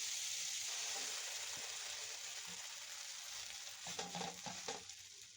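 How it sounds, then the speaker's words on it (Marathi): Pav bread warms in butter and bhaji on a flat tawa, giving a soft continuous sizzle with light scraping and stirring toward the end, close and fairly quiet, with no talking. "आता पाव गरम करण्यासाठी तव्यामध्ये थोडा बटर आणि भाजी टाकून त्याच्यावर पाव गरम करून घेतले आहे।"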